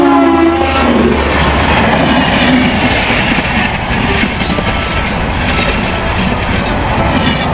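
A train thunders past at a railway level crossing, loud and close, its rolling wagons and rhythmic wheel clatter filling the whole stretch, with a short horn-like tone at the start.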